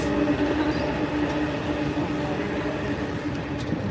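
A train rumbles past at moderate distance near the Sydney Harbour Bridge, a steady broad roar with a faint humming tone, continuous throughout.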